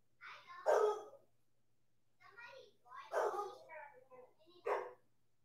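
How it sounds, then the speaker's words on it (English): A dog barks indoors in a few short, sharp bursts at a moderate distance, heard amid brief spoken remarks in a home where someone is unboxing toys. "The dog's barking if you can't hear him."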